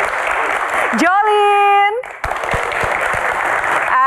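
Applause from a studio audience at a televised Indonesian Q&A talk show, a broad steady wash of clapping that runs throughout, briefly cut by a sung or sustained tone and with a voice speaking over it.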